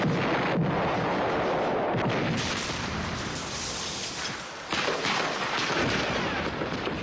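Heavy WWII-era bombing and artillery fire against encircled Japanese forces on Guadalcanal rumble as continuous, dense booming, loud and close, with overlapping blasts and a brief dip before the barrage surges again.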